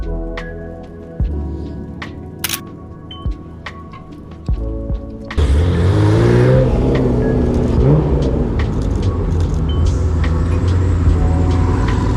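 Koenigsegg Jesko supercar on a London street, its engine kicking in with a loud, close, sustained roar and rising revs after a quieter stretch of light traffic and clicks.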